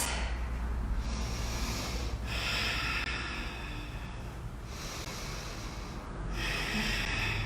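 Someone holding a yoga pose that works the upper back takes slow, deep, close breaths through the nose, each long inhale and exhale flowing into the next in a steady rhythm.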